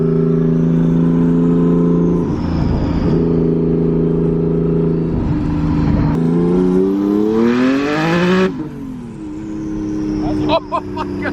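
Twin-turbo Nissan 370Z accelerating hard at a drag strip, a loud rising engine drone that climbs steadily through the gears over several seconds, heard from inside the car with occasional voices.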